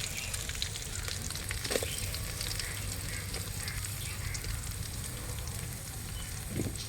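Green chillies and onions fry in a pan for a rabbit pepper curry, giving a dense, steady sizzle with occasional faint stirring clicks and no talking.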